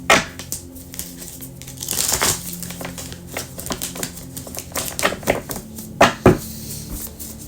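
A tarot card deck is shuffled close by, producing rapid, irregular clicks, riffles and slaps of cards in uneven bursts, with a few sharper snaps near the end.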